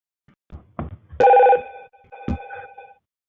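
A telephone bell rings in two short bursts, bright and close, with a few faint knocks and rustles around it.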